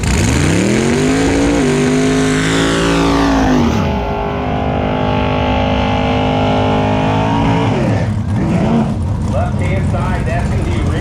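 Drag race car on a drag strip making its pass down the track in an ET bracket round, engine roaring loud and sustained with rising and falling pitch as it shifts, a voice talking over it.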